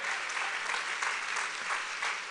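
A church congregation applauding during a sermon, a dense and steady wash of clapping that carries on without a pause through the whole stretch.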